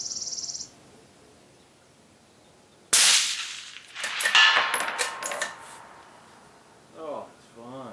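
A Short Action Customs .260 Rem rifle fires with a suppressor, one sharp, loud report followed by a ringing, noisy tail and softer clatter. Quieter sounds come before and after it.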